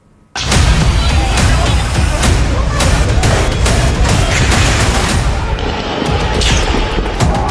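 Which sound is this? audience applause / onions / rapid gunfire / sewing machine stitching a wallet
rapid gunfire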